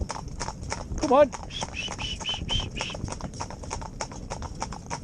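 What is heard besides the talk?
hooves of Gypsy Cob horses driven in tandem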